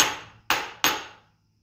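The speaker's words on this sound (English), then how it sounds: "you're going to have to hit it with a hammer." Three sharp metallic hammer strikes on a workpiece held in a milling machine vise, close and loud, each ringing briefly before fading; the second and third come in quick succession.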